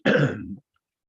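A single short, close cough or throat-clear, abrupt and loud, then silence.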